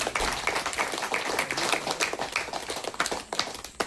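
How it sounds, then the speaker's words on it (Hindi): A church congregation claps together during a sermon, a run of fairly rhythmic hand claps with a roomy, crowded texture, continuing steadily for a few seconds without speech. "ताली बजा।"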